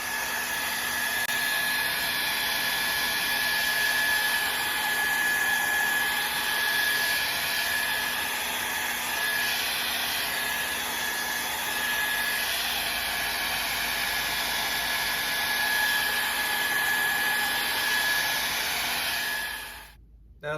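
A hair dryer blows steady hot air over freshly painted truck parts, a constant close whirring hiss that runs unbroken for about twenty seconds before cutting off abruptly at the end.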